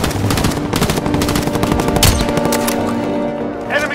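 Rapid automatic gunfire of incoming rounds in a military video game, dense bursts of loud, close shots rattling almost without pause.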